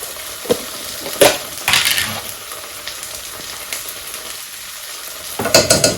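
Butter spread sizzles and crackles in a hot pan while bulgur is being cooked, with bursts of loud frying and stirring noise separated by quieter stretches.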